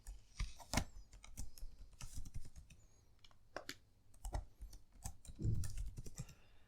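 Keys on a computer keyboard clatter in quick irregular bursts while a root password is entered during a CentOS server setup, soft and close with short pauses between clusters of taps.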